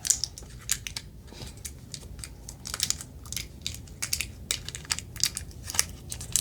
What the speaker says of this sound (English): The sharpener is still in the plastic. I can't get it out.